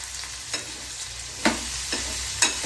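Tomatoes sautéing quietly in a pan, a soft steady sizzle broken by a few sharp stirring scrapes.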